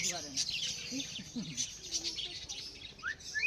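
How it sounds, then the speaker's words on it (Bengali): Caged budgerigars at a busy outdoor bird market give rapid, high chirps and tweets in a steady stream, fairly close, against crowd murmur and faint background voices. "ভেতরে সব পাখি আছে, বদ্রি পাখি।"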